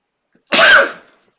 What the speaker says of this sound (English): oh, I think I got to sneeze